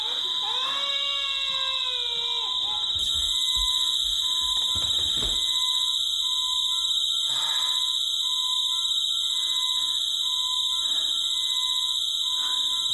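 A house alarm sounds continuously, a loud piercing steady electronic tone that holds throughout, with a few thumps and brief background noises beneath it and no speech.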